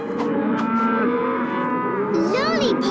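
Several cows moo loudly and overlapping in a cartoon, long low bellows close by, with a higher wavering call near the end.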